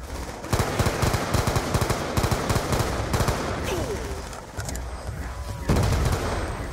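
Rapid bursts of AN-94 rifle fire in Black Ops 2 Zombies, a loud run of quick automatic shots with brief pauses between strings, close and dominant throughout.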